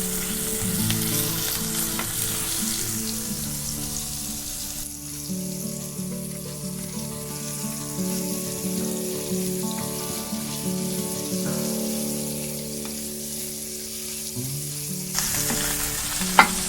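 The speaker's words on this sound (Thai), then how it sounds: "กุ้งเนี่ยเราไม่จำเป็นต้อง ทอดนานนะคะ" Shrimp frying in hot oil for a crispy shrimp omelette, giving a steady, dense close sizzle that runs unbroken for many seconds, with a louder crackling burst near the end and no talking.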